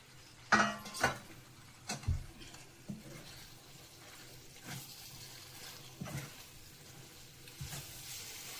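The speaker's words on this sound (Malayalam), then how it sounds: "എന്നിട്ട് നന്നായിട്ട് ഒന്ന് ഇളക്കാം" Salted lemon pickle with green chilies being stirred in a pan: a soft sizzle runs throughout, with a few sharp scraping strokes near the start and lighter ones later.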